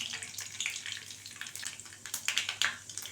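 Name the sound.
mustard seeds sizzling in hot oil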